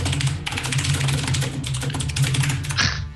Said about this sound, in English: furious typing. Furious typing.